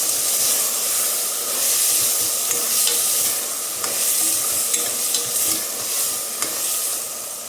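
Thick drumstick pieces fry in oil for drumstick biryani, a loud close sizzle with a hissing steam layer and irregular scraping stir strokes.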